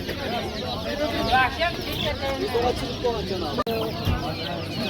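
Roosters and hens cluck and call at a busy Namangan poultry bazaar, overlapping bursts of clucking and crowing close by, with a sharp knock partway through.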